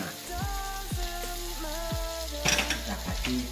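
Onions fry in a pan for a sweet and sour gourami sauce, a close, steady sizzle with scraping stirs and a brief louder crackle partway through.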